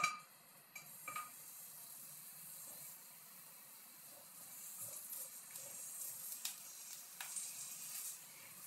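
Garlic sizzles in a frying pan with a steady, fairly quiet hiss, broken by a few brief crackles and stirring clinks.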